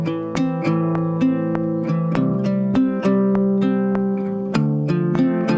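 Clean guitar plucks a repeating pattern of notes, each attack ringing briefly into the next, steady and close with no talking.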